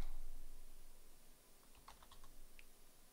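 Quiet typing on a computer keyboard, with a short cluster of light key clicks toward the end.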